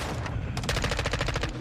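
Rapid automatic gunfire in the Call of Duty: Modern Warfare II video game, a short burst of close, loud repeated shots following a few scattered single cracks.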